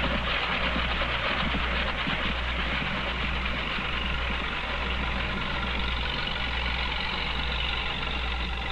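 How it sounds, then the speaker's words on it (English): A farm tractor pulls a mower through an alfalfa field, its steady low engine drone running continuously and evenly throughout with a broad mechanical hiss over it. "a farmhand is driving a tractor. The tractor is pulling a mower."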